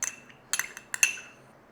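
A metal spoon clinks and scrapes against an air fryer basket while scooping out a poached egg, a few sharp, close ringing taps spaced irregularly over under two seconds.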